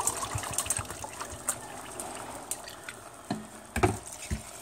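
Vinegar pours into a container for escabeche pickled vegetables, a close liquid gush and trickle with a few clinks and knocks near the end, no talk.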